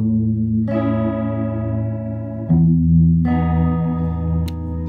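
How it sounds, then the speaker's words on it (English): Sustained electric guitar chords through a dual chorus effect shimmer with a wide, warbling modulation, two long ringing strums in turn, bright and close with no talking. "we'll go, I don't know, dual chorus. It's like, adjust the rate of each chorus."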